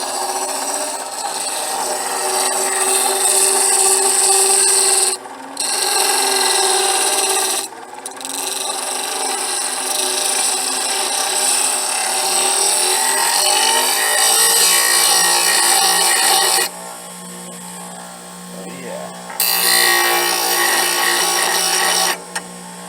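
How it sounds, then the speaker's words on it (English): A bench grinder shapes a wooden wizard's wand in a long, loud rasping grind that runs almost continuously, broken by a few short pauses as the wood is lifted from the wheel. "now I'm going to bring it over here to my grinder."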